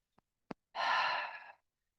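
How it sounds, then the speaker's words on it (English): A single long exhale blown out through the mouth during a qigong session, close and breathy, lasting under a second after two faint clicks, then silence. "Long exhale through the mouth."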